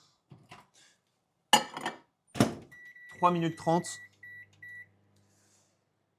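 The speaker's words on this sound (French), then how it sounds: "tu balances au micro-ondes directement" Microwave oven shut, programmed and started to heat vegetable purée, with a door clunk, a few keypad beeps and a low running hum under brief talk.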